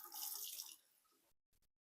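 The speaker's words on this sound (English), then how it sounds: "So I have a sink here, and when I turn it on" A bathroom sink faucet is turned on and water gushes into the basin with a loud splashing rush, then trails off into quieter flow before a couple of brief clicks.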